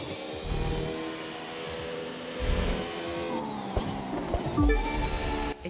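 Glitched race car engine in The Crew Motorfest, a Gordon Murray supercar, giving a smooth, oddly electric-sounding drone with shifting tonal whines and a few pitch sweeps as it accelerates, steady and alone throughout.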